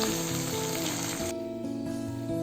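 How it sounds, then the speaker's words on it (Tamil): Garlic, long-cut ginger strips and curry leaves sizzle steadily in hot oil for a fish curry, a loud, dense frying hiss that thins somewhat partway through, with no voices. "இஞ்சை நல்லா நீளமாக கட் பண்ணி போட்டு கொஞ்சம் கருவேப்பிலை போட்டு அதையும் நல்லா இந்த எண்ணெயில் நல்லா வதங்கட்டும்"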